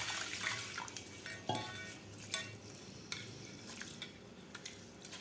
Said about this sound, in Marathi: तर आता आपल्याला 2 पाण्याने स्वच्छ धुवून घ्यायचे आहेत तांदूळ।